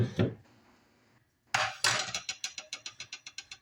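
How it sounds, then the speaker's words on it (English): Apple pie filling ingredients mixed in a bowl: a clatter of utensils, a pause, then a quick run of rhythmic taps and clinks against the bowl that speed up as the stirring settles into a beat, with no voices. "Now let's mix in all of our ingredients for the filling."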